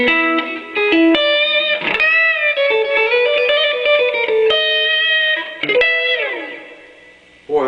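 Electric guitar notes and chords ring out with a washy reverb and echoing delay trails, loud and sustained, with no voices.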